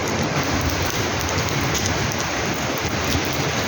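Heavy rain pours down close by, a dense, loud, unbroken wash of drops with no talking.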